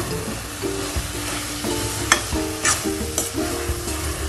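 A thick grated fresh coconut and sugar syrup mixture for coconut barfi is stirred and scraped around a pan, with repeated clinks of the spoon against the metal over a soft sizzle.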